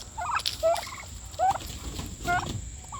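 Broad-breasted bronze turkeys gobble in short bursts, three or four rapid warbling calls spaced through the span, fairly close over a steady background hum with no talking.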